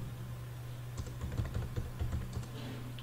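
Keys clatter on a computer keyboard in a quick run of soft, close taps over a steady low hum, lasting a couple of seconds.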